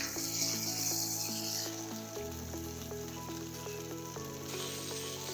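Chicken fries in truffle oil in a pan, giving a constant, loud sizzle for the whole stretch, layered with soft background music tones.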